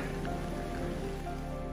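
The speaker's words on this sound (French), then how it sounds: "Il pleut." Rain falls steadily during a mountain hike in the Tinée valley near Saint-Étienne-de-Tinée, a dense, even patter of drops on surfaces, close and continuous, with no voices.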